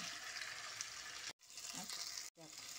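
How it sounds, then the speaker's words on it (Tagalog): Chicken breast frying in a pan with a continuous crackling sizzle, briefly cut off twice, with a faint voice murmuring underneath. "So, fry na natin, guys, yung chicken breast."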